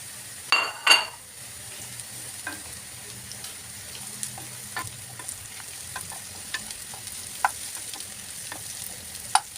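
Mushrooms fry quietly in a pan as part of an air fryer recipe, with a soft sizzle, a couple of loud clattering knocks at the start and scattered light clinks afterward.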